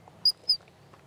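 A handheld bird call device squeaked twice in quick succession outdoors at a campsite, producing short, high, chirp-like notes that imitate a bird, with faint natural background and no talking.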